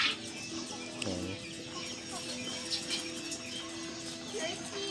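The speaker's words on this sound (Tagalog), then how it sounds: "Yung mga turkey natin guys, malalaki na din sila. Breeder na din to." Turkeys and native chickens on a farm, faint scattered clucks and calls over a steady outdoor background, with a person talking quietly in the background.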